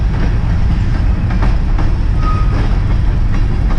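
A train rumbles steadily past nearby during a hurricane south of New Orleans, a continuous low roar with faint rhythmic clatter of wheels and a brief high squeal partway through.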